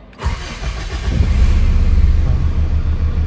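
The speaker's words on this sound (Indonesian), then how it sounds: "meng-on-kan atau men-starter engine tersebut" A Mitsubishi Pajero engine is started: a brief starter crank right at the beginning catches, then a steady, close, rumbling idle runs on to the end, with no talking.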